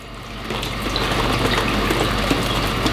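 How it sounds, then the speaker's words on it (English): A simple pump made from a drinking straw dipped in water, giving a steady watery spraying and bubbling rush that starts softly and stays level for a few seconds. "You can make very simple pump just with help of the straw, and if I dip these ends in the water"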